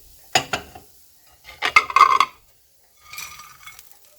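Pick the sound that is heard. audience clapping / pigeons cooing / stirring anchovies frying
stirring anchovies frying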